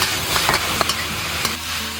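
Shredded potatoes stir-fried over high heat in a hot iron wok with oil, dried chillies and aromatics, giving steady close sizzling broken by a few scraping stirs of the spatula.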